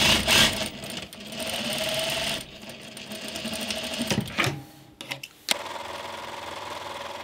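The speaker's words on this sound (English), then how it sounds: "I'm just gonna sew at a half inch seam allowance all the way down that edge of the gusset." A sewing machine runs steadily as it stitches a half-inch seam down the gusset edge of rock climbing pants. The whirring is close and continuous, dips briefly midway, and ends with clunks and rustling from handling the fabric.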